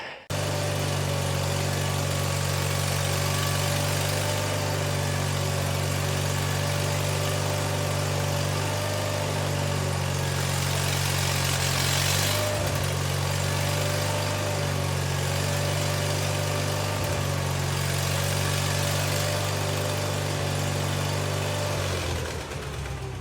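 A small engine on a homemade mini front loader idles steadily and loudly from start to finish, a constant low rumble with a slight wavering hum.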